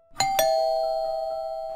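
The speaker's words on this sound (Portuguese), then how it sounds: "Olha a campainha." A doorbell rings indoors: two quick bright strikes, then a clear sustained chime that slowly fades, heard alone with no voices.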